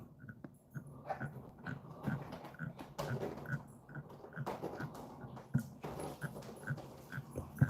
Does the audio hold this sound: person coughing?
no